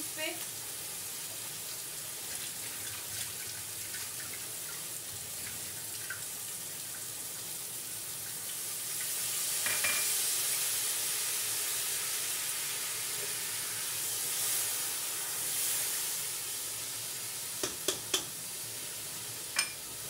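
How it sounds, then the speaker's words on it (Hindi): Vegetables, potato and ridge gourd, sizzle steadily in a pan after a sprinkle of water, a soft continuous hiss that swells midway, with a few sharp clinks near the end. "थोड़ा सा पानी का मैं छिड़काव करूंगी"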